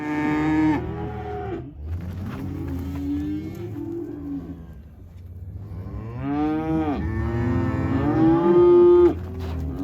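Cows and their calves, just separated at weaning and held on either side of a fence, moo and bawl repeatedly in long overlapping calls, loud and close, with no talk.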